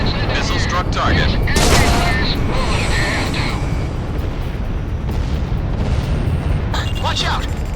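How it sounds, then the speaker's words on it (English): Missile explosion hitting a target in the Ace Combat 6 video game: loud booming blasts and rumbling gunfire-like bursts over continuous jet engine roar, with game radio chatter underneath. "Missile struck target."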